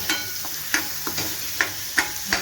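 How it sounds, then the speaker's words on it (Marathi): Egg bhurji sizzles and fries in a pan while a spoon stirs it, giving steady crackle broken by sharp scraping clicks every half second or so, close and moderately loud, with no voices. "आपल्या आता अंडा भुर्जी तयार करायची चाललेली आहे"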